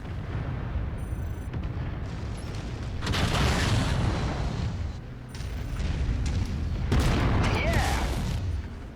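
AC-10 autocannon fire in Mechwarrior 5, heavy booming blasts with rumbling impacts arriving in two loud bursts, separated by quieter mechanical noise and brief electronic tones.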